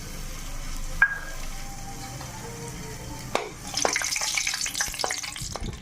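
Small pieces of asafoetida dropped into hot oil bring a quiet pan hum, a couple of sharp knocks, then a sudden bright crackling sizzle that swells and carries on to the end.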